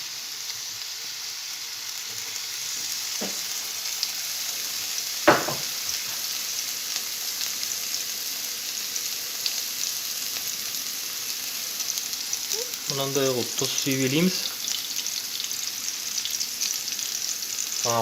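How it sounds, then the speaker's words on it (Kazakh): Onions fry in oil in a pan with a steady, close, crackling sizzle that continues throughout. A stirring clack sounds once, and someone speaks briefly near the end. "Жуаны қуырған кезде қызартып қуырамыз, күйдіріп алмауға тырысамыз"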